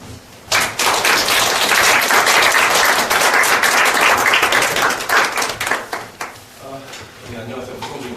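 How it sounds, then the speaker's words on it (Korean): An audience at a university colloquium applauds to welcome a speaker, a sudden burst of dense clapping that lasts several seconds, then fades into scattered claps as a voice begins. "그래서 우리 박성준 대표님을 박수로 맞아주세요"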